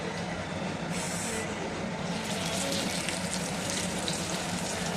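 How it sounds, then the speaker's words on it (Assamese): Rupchanda pomfret fish frying in hot oil gives off a continuous, dense hiss and sizzle with no breaks, close and steady, brightening a little in the second half. "মাছটো হৈ আছে ফ্ৰাই"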